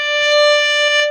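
A single sustained high D bowed on a string instrument, a steady clear tone with rich overtones, close and fairly loud, lasting about a second alone.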